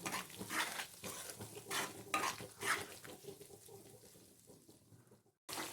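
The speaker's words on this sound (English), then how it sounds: "Now stir it nicely." Ginger chutney sautéed over a low flame in a pan, stirred with a utensil: repeated scraping and clinking strokes over a soft, steady sizzle, close and fairly quiet, ending in a brief pause.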